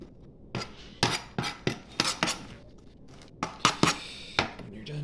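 A knife chops onions on a countertop, with irregular sharp close knocks that come in quick bursts, then a pause, then another flurry of cuts.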